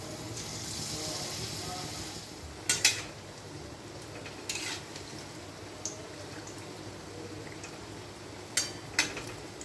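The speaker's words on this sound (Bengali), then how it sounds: "সরিষার তেল গরম করে আমি এখন বড়া ভেজে নেব" Palm fritters (taler bora) fry in hot mustard oil, a close steady sizzle with a few sharp clinks of a utensil against the pan, and no talk over it.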